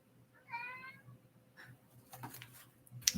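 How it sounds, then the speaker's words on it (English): A cat meows once clearly and fairly close, a short harmonic call, followed by faint rustling and small handling noises in an otherwise quiet room. "There's a cat."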